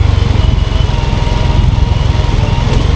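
A motorcycle descending a steep, broken hill road in Bangladesh with the gear held low for engine braking, its engine chugging in a steady, loud, close pulse throughout with no talk.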